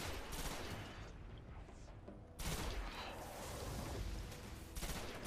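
Bursts of gunfire as enemies are shot in Destiny, rapid overlapping shots forming a dense, continuous fusillade at moderate volume with a short lull in the middle.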